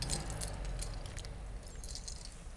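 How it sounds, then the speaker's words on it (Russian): A bunch of keys jangles close by, a busy metallic clinking that runs steadily throughout, with no talk. "Вот мои ключики"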